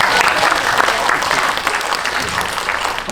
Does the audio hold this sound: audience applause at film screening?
yes